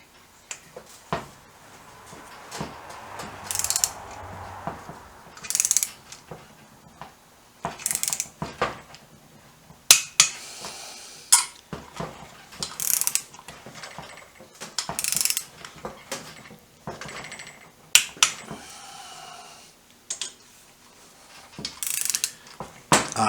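A torque wrench tightens bolts on a BM Enfield 350 trials motorcycle engine, sharp isolated ratcheting clicks and metallic snaps arriving in irregular bursts over a quiet workshop background.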